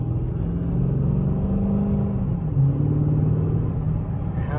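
A Chrysler 300C SRT8 with its Hemi V8 rumbles at a deep, steady idle, then revs briefly and settles back into a loud, continuous low burble, close by and with no talking.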